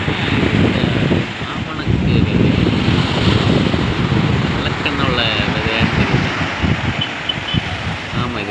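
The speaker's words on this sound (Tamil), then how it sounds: "கடல் ஓரமாக உட்காந்து அலையை ரசிக்கிறதுன்னு ஒரு சுகம்தான்" Sea waves break on the shore along the coast between Kanyakumari and Kollam, a loud, continuous surf roar blended with steady wind buffeting the microphone.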